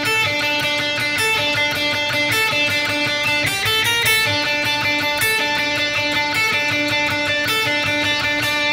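A guitar plays a repeating pattern of root and fifth notes in a higher register, ringing clearly with steady plucked rhythm and no voices.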